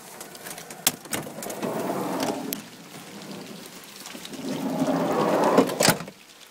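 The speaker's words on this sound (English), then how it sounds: "you can definitely hear the rain coming down on the skylight." Rain patters on the skylight of a Vanagon Westfalia van overhead, swelling and easing in waves, with a few sharp taps and knocks standing out from the steady drumming.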